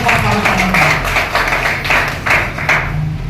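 Applause welcoming guests at a monthly district Congress committee meeting at the Burari office, brief irregular bursts of clapping from a small crowd, with a voice speaking through it over an amplified hum.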